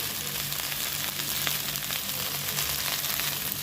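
Okra and onions fry with spices in a pan, giving a steady, dense sizzle that stays at an even level throughout with no talking.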